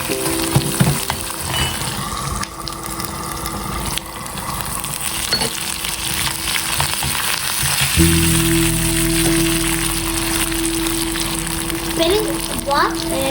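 Curry leaves sizzle and crackle in hot oil with a constant frying hiss and occasional stirring scrapes, moderately loud, while a faint tone and some background voice sounds run underneath.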